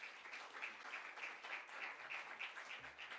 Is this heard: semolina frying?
no